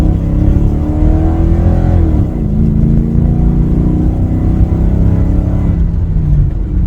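A 2003 Toyota Sequoia with a 4.7 liter V8 accelerating: loud, steady engine drone heard from the cabin, its pitch climbing, dropping at a gear change, then rising again before easing off; no talk.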